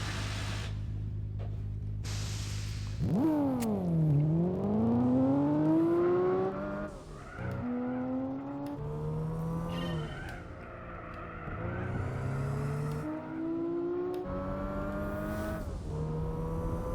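Race car engine in Gran Turismo 4 at the Nürburgring during a 4-hour endurance race, loud and continuous, rising and falling through upshifts and revs with squeals of tyres under braking and cornering.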